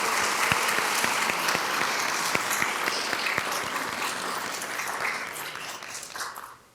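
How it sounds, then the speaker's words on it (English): A full round of applause at a school board of education meeting, steady dense clapping from the audience for several seconds before tapering off at the end. "So let's give her an amazing round of applause for that."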